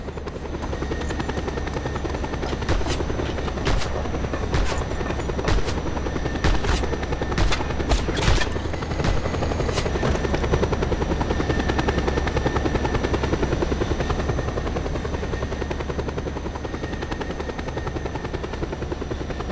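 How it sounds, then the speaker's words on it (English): A helicopter in the video game Just Cause 2 thunders steadily throughout with close, loud rotor chop and engine whine, while sharp bursts of gunfire crackle repeatedly in the middle stretch. "Use the grappling hook to latch onto the chopper hull."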